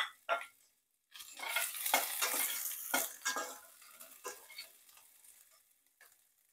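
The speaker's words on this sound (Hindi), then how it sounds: "मैंने मोटे मोटे ये प्याज काटे हुए हैं रफली चॉप किए हुए हैं इसको हम इसमें डाल देंगे फ्राई पैन में" Roughly chopped onions drop into a frying pan with whole spices and sizzle, with a sharp initial splash, then bursts of crackling frying and stirring scrapes that gradually settle into a quieter sizzle, close and clear.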